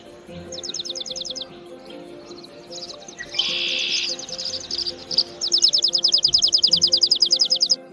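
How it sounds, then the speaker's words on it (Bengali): A sparrow chirps in rapid, steady trains of short high notes: a brief burst at the start, a denser buzzy stretch in the middle, then a long run of evenly spaced chirps, clear and close. "এটা চড়াই পাখির ডাক ইংরেজিতে একে চপ বলে"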